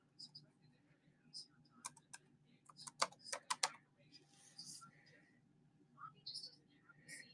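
Someone types on a computer keyboard: faint, quiet clusters of key clicks in irregular bursts, with a soft voice heard now and then.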